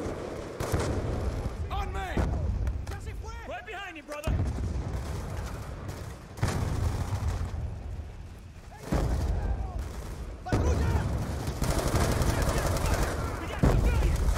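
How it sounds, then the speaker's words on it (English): Gunfire in the shooter game Call of Duty: Black Ops 2, repeated loud bursts of shots and booming blasts in clusters, with voices talking over parts of it. "I think I shot a civilian there."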